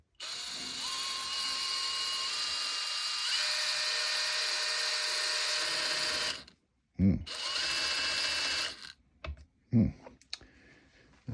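A 12V multi-chuck drill driver on its low torque, low speed setting whines steadily and close for about six seconds. Its pitch steps slightly partway through before it stops, then short bursts and clicks follow as the clutch slips.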